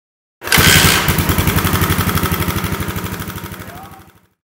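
A Yamaha SR500 motorcycle engine catches with a loud burst, then settles into a steady, throbbing idle with rapid even pulses that slowly fade.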